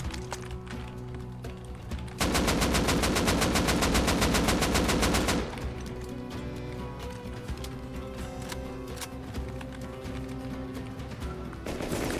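Gunfire in the video game Rust: a loud, sustained burst of rapid automatic shots lasting about three seconds, then quieter scattered game sounds and background noise.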